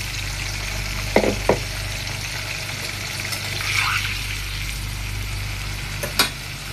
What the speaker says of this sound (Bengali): আমার তেলটা গরম হয়ে আসছে, এখন আমি দিয়ে দিব আলুগুলো ভাজার জন্য।